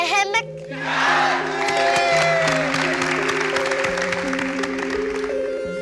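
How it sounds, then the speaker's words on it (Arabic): A TV studio audience claps and cheers loudly together, a dense wash of applause and shouts, with music playing underneath. "وعلى صوت تصفيق الجمهور"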